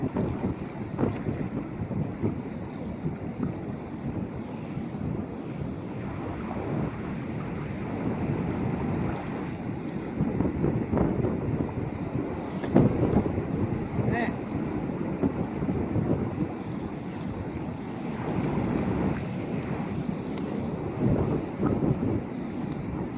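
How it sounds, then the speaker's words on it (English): Strong wind buffeting the microphone beside a bass fishing pond, a loud continuous roar with surging gusts throughout. "This wind is ridiculous."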